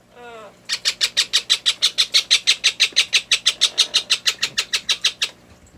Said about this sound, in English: tiny little bird. It's only 87 grams.